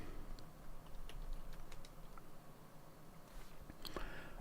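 Light, scattered clicks of typing on a computer keyboard during video editing, a few quick irregular keystrokes close by over a low steady room hum.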